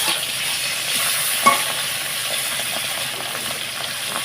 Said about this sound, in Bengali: এত ফুটছে মাছটা এত ফুটছে মাছগুলো কিছু বলার নেই